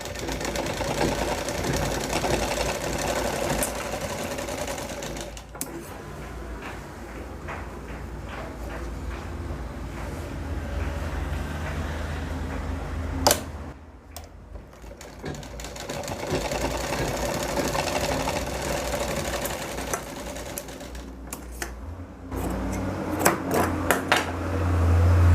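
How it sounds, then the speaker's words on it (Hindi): A tailoring sewing machine stitches the finishing seam on a double bone back pocket of trousers, with a steady mechanical drone broken by stops, restarts and clanking handling noises, close-up throughout. "हम इसके ऊपर से फिनिशिंग के लिए सिलाई लगा देंगे।"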